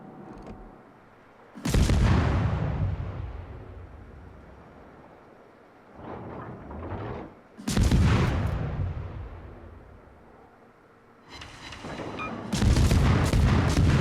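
Heavy naval gunfire from a destroyer firing at an aircraft carrier in World of Warships: loud booming salvos around two, eight and thirteen seconds, each with a long rumbling decay, plus a smaller burst near six seconds.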